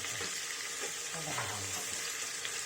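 Onion frying in hot oil, a steady close hiss and sizzle in a home kitchen with faint voices murmuring underneath.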